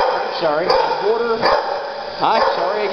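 A Boxer and Great Dane mix dog barks in a few short bursts, close and fairly loud, with a person talking over and between the barks.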